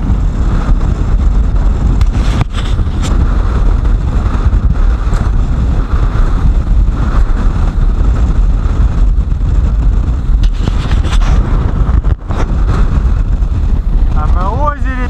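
Strong wind roars across the microphone during a storm on the Amur River, with waves slapping a fishing boat, a loud constant buffeting rumble with occasional gusty thumps and no clear talk.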